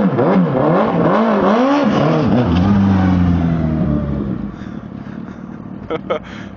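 A Suzuki Hayabusa 1300cc motorcycle revs hard, its engine pitch rising and falling through several loud sweeps before settling and fading as it pulls away, with voices talking nearby.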